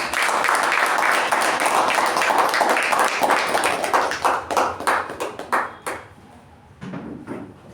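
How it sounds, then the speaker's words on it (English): A Toastmasters club meeting gives a panelist a round of applause: a full burst of clapping from the audience that thins out into scattered individual claps before stopping. "please welcome the first panel, Toastmaster Veerabhadrappa, with huge round of applause"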